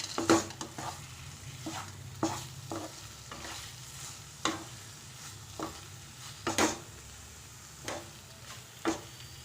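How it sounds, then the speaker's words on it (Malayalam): A spoon stirs raw dates halwa with fried cashews and raisins in a pan: repeated scraping strokes at an irregular rhythm over a soft, constant sizzle, close up with no voices. "എന്നിട്ട് മിക്സ് ചെയ്യാം."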